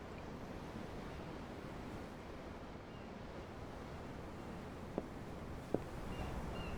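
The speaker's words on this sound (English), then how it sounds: "The ocean? Yeah. The waves." Ocean waves surge and wash steadily in the Tales of Arise video game, heard from on board a ship as a soft, continuous roar with faint wind, plus two tiny clicks near the end.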